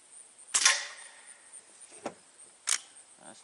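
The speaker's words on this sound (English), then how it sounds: "So let's shoot another target here and see if things stay reasonably well for us." A rifle is fired at a target during a test of a Leapers Bugbuster 6x32 AO scope: one sharp, loud crack near the start, then a few fainter clicks and a second brief snap, with no talking.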